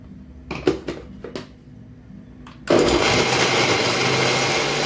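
A kitchen blender grinding onion paste: a few short pulses and clatters, then the motor roars into a loud, steady whir that runs on to the end, close by and without speech.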